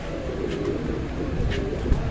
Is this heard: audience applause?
no